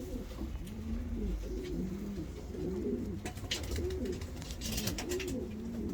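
Several pigeons, including Bukhara, Bogmali Hunkari and Rostov breeds, coo in overlapping, rolling phrases against a steady background murmur, with occasional brief rustles or flutters.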